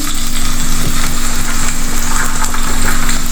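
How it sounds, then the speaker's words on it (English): Shallots sizzle and crackle steadily in hot oil as they are sautéed and stirred for a Kerala shrimp and jackfruit curry, a loud, close, continuous frying hiss with no voices. "Now I added the shallots. Give it all a mix, keep sauteing."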